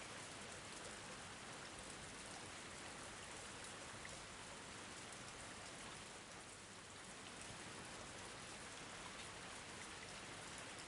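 Rain pours continuously in the Rebellions: Secret Game video game, a constant, even hiss of falling drops that stays level from start to finish, with no talking.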